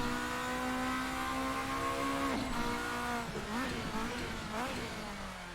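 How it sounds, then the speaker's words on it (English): A race car from the RSS GTN pack in the Assetto Corsa racing game revs and shifts, its engine tone rising and then dropping through downshifts with throttle blips, and a faint voice talks beneath it. "I'm enjoying the sound of this car."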